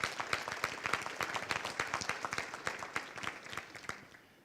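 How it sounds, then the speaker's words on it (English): A crowd at a military garrison update applauds, with fairly close, distinct claps that gradually thin out and fade away near the end. "Round of applause for all of them who worked hard at that"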